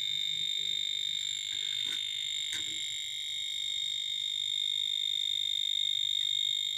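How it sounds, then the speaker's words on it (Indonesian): A cable continuity tester beeps while checking an unbroken electrical mains cable, giving a steady high electronic tone that runs continuously. A few faint clicks and handling noises sit underneath it. "Untuk kabel yang tidak putus, ada bunyi dan LED hijau menyala."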